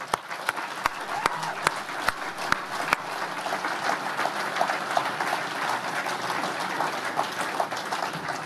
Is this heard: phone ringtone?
no